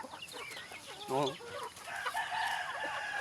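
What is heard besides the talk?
chicken clucking and crowing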